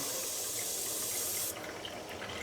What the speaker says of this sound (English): I'm going to turn the water on to the system. I'm not going to just turn it on real fast.